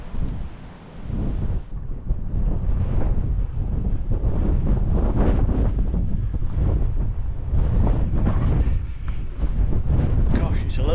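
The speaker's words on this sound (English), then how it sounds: "it's a little bit breezy." Strong wind buffets the microphone on an exposed hillside walk near Darwen Tower, a steady loud rumbling roar with gusty swells throughout, a voice talking beneath it.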